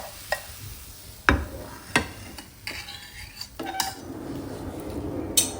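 A cooked tomato omelette is lifted from a pan: scattered spatula clinks and scrapes against metal over a quiet sizzle that grows slightly louder toward the end.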